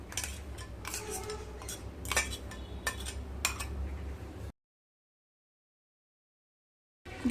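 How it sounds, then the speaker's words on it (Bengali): A spoon clinks and scrapes around a bowl while spices are mixed into a sesame, poppy seed and green chili paste, sharp taps in a loose rhythm, then the sound cuts to silence. "দিয়ে সমস্ত উপকরণগুলোকে ভালোভাবে মিশিয়ে নেব"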